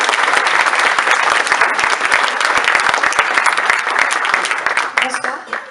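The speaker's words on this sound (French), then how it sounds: "je vous remercie de l'applaudir" An audience claps steadily for a speaker coming onto the stage at a local election candidates' presentation. The dense, sustained applause tapers off near the end.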